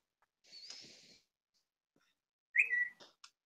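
A person whistles during a podcast recording: a short faint steady tone, a pause, then a louder, brighter sliding whistled phrase with a final brief chirp, close to the microphone.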